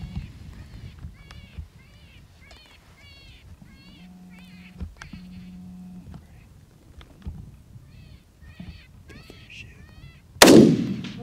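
A single loud, close rifle shot cracks out near the end during a coyote hunt in tall grass, after a stretch of quiet outdoor sounds with a few faint calls.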